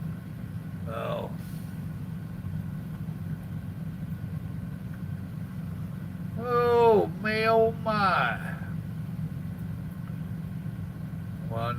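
A truck idles while backing in, its steady low engine rumble running under the whole stretch, with voices speaking briefly over it near the start and in the middle.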